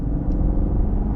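A 2023 Cadillac CT5 Premium Luxury 550T V6 engine rumbles low and loud while driving, a dense, steady drone heard up close for about a second.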